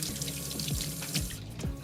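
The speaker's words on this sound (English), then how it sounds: "I'm just gonna go wash my hands really quick" Water runs steadily from a kitchen faucet while hands are washed beneath it, a close, continuous splashing stream with small swirling gurgles throughout.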